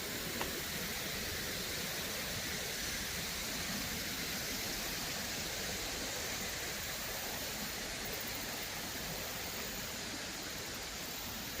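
Water pours over an old dam on a creek at Mason Mill Park in Decatur, Georgia, a faint, steady broadband rush with no breaks.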